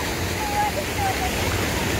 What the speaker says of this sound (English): the kids having so much fun splashing the water.